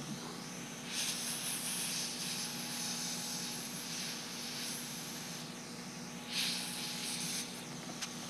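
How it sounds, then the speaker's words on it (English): A heat gun shrinking heat-shrink tubing on electronics components gives a steady airy hiss, swelling in broad bursts around the start, middle and near the end over a constant low fan hum, close and fairly quiet. "shrink the tubing"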